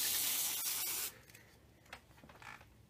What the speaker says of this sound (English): spray a little on the paper towel